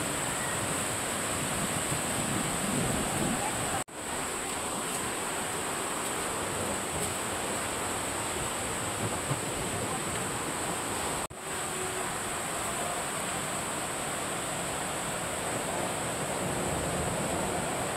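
Strong wind roars steadily and loudly across the microphone at the Tinipak rock formation, a broad continuous rush with two brief dropouts and no clear voices.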